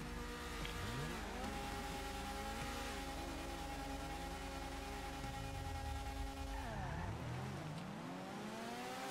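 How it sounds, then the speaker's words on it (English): Maxed-out Omnis, Stratos and Sultan RS race cars in GTA 5 launching in a drag race, turbo engines revving and climbing in pitch through gear shifts, loud and continuous, with a fresh rising rev near the end. "we're going to do a drag race between the Omnis, which is maxed out, a maxed out Stratos, and a maxed out non-Sultan RS"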